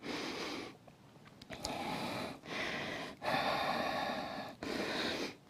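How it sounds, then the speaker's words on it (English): Slow, deep breaths in and out during a seated Hanuman Yoga strength exercise, four long airy breaths close to the mic with short quiet pauses between them. "Few deep breaths."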